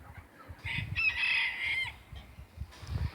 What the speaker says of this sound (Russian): И здесь есть еще петух такой прикольный.